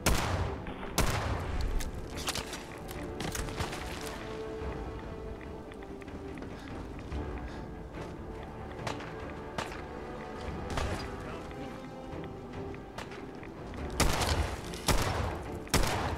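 Game gunfire from a legendary gun in Fallout 4, with bursts of rapid shots and loud broadband blasts at the start and end and steady sustained firing through the middle.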